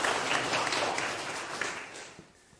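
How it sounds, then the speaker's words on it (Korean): A Korean lecture audience applauds steadily for about two seconds, a dense wash of clapping that thins and fades toward the end, with no speech over it. "박수 한번 부탁드릴게요"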